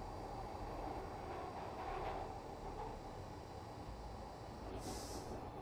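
Glasgow Subway train in Train Simulator Classic rumbling steadily along, with a loud, continuous low-frequency drone and running noise throughout, and a brief hiss like an air release near the end.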